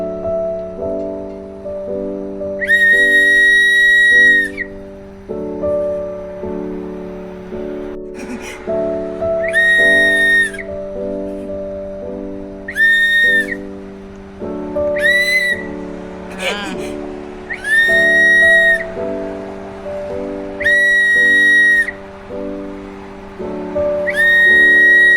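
A whistle blown in about seven short, shrill, cuckoo-like blasts at a steady rhythm, sounding over a constant droning tonal background.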